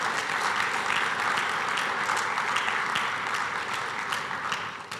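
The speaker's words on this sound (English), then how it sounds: "A round of applause for my marketing team" An audience applauds a company's marketing team at a Nigerian internet provider's tenth-anniversary event, with a full, sustained wash of clapping that fades slightly toward the end.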